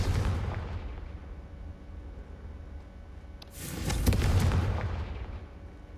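Blasts from the Confringo spell in Hogwarts Legacy burst into a rumbling, crackling roar that fades away, then a second loud explosion swells and rolls on heavily.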